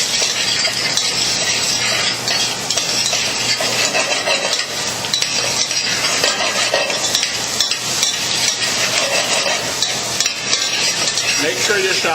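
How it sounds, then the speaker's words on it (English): Lightly salted mushrooms sauté in a pan, giving a loud, steady close-up sizzle with frequent scraping stirs and small clinks throughout. "Little secret that I do when I saute mushrooms, I just put a little bit of salt in the mushrooms"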